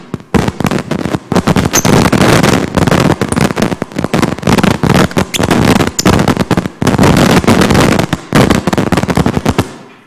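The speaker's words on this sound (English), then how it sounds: "It's fireworks." Fireworks explode in rapid, crackling bursts, a long loud volley of sharp pops and bangs with brief gaps, going on for several seconds before ending abruptly.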